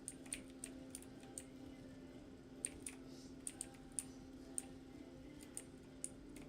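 Typing on a mid-range mechanical keyboard costing about $30, faint sharp clicks coming in irregular bursts over a quiet steady hum, with no voices.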